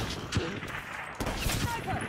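Bursts of automatic gunfire from Call of Duty Black Ops 3 gameplay crackle across a busy mix, with sharp shot transients recurring through the clip and faint voice-like sounds underneath.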